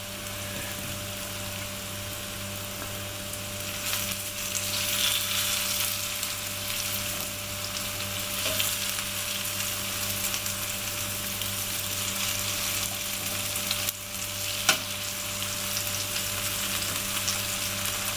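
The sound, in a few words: homemade potato latkes frying and being turned in pan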